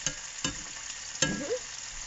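Eight big Sicilian sausages sizzle in a pan, a quiet, steady frying hiss broken by a few sharp clacks as they are stirred or turned.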